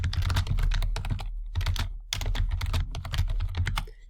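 Fingers typing on a computer keyboard in quick bursts of crisp key clicks, with short pauses between runs, close and clear with no voices.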